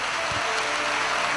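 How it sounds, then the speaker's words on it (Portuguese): A church congregation applauds Jesus with dense, steady clapping from many hands, loud and sustained throughout. "todos, uma grande salva de palmas a Jesus"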